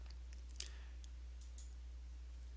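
A single sharp computer mouse click on a Report Builder link stands out in a quiet room with a steady low hum, followed by a few faint ticks.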